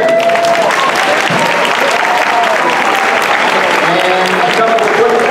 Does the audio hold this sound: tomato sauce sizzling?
no